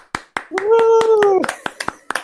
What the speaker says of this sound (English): The studio audience, give a round of applause to jack-kuveke.